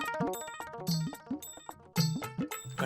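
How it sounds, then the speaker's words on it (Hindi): A bright electronic ringtone chimes in repeating jingly bursts, clear and fairly loud, with no voices over it. "घंटी बज रही है।"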